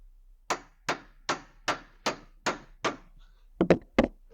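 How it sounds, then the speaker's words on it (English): Close hammer blows drive a crowbar in beneath a wooden pallet slat in a steady rhythm, about seven evenly spaced strikes, then a quick cluster of heavier knocks. "We'd normally just go in underneath the slat, hammer it in,"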